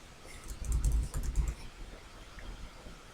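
Quick bursts of typing on a computer keyboard while editing slide text, a dense cluster of clicking keystrokes in the first second and a half, then fading to a quiet room tone, no talking.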